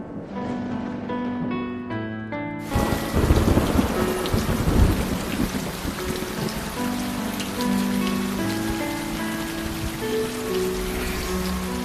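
Heavy rain pours down in a drama scene, starting abruptly after a few seconds of soft tonal music. A deep thunder rumble swells early, then the dense, loud downpour continues steadily.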